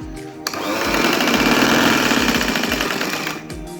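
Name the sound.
sewing machine stitching velvet baby frock panels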